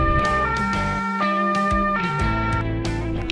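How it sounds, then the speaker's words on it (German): A loud ambulance siren, a German ambulance arriving at a school, wails continuously, its tone stepping between high and low pitches, close and dominant with no other sounds. "Da ist ja schon der Krankenwagen."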